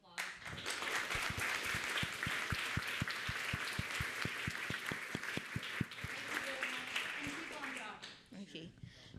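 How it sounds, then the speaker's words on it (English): A lecture audience breaks into loud, sustained applause, with dense clapping filling the room for several seconds before tapering off as a voice starts to speak. "a big round of applause."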